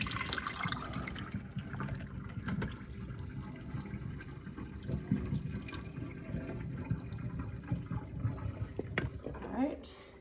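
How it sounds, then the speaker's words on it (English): Cold soaking water being poured off saltfish in a kitchen, a continuous splashing and trickling stream running for several seconds with clinks of the pot or bowl along the way. "the saltfish them in some cold water. Just about pour the water off."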